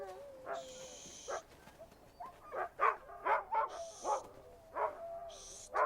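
A trapper's sled dog barks and yips in a quick series of sharp, close calls spaced through the moment, with a faint whine early on and a higher-pitched sound cutting in above.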